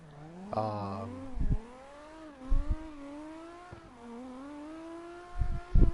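A BMW engine revs in the CarX Drift Racing video game, its pitch climbing and sliding in long wavering sweeps, broken by a few low thumps.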